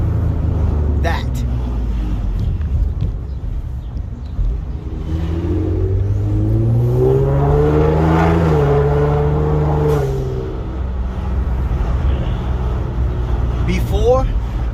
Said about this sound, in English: all you hear is the sound of the Borla. And of course, the Catless Downpipes.